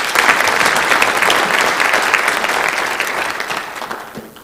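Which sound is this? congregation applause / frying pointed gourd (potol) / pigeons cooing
congregation applause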